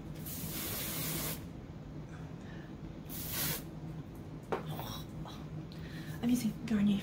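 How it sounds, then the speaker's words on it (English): Two long hissing bursts of Garnier hairspray, one after another, then softer rustling and a voice talking quietly near the end. "I'm using Garnier 50s. Hairspray."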